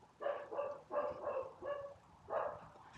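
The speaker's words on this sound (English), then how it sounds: "Apparently a dog likes to bark." A dog at a house on a quiet cul-de-sac in Reno barks in a rapid run of five or six sharp woofs, moderately distant and fairly faint, with brief gaps between bursts.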